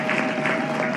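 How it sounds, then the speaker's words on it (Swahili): Audience applause at a Tanzanian public address, a dense steady clapping from a crowd that fills the whole moment at an even level. "naomba kwa pamoja tuwapigie makofi"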